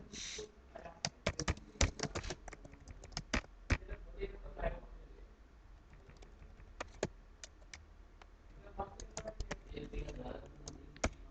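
Steady typing on a computer keyboard while writing a sentence for a web design lesson, with clustered key clicks and short pauses throughout, close and fairly loud, no talk over it.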